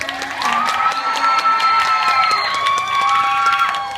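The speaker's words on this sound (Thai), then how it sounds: "ขอเสียงปรบมือ" A crowd of schoolchildren cheers and shouts continuously, with some clapping mixed in, loud and lively throughout.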